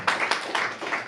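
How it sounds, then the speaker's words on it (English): Audience applause for the guest speaker at a Sunday feast program at a Hare Krishna temple, a dense, fairly close patter of many hands clapping in waves through the whole moment. "let's give a round of applause for our speaker today"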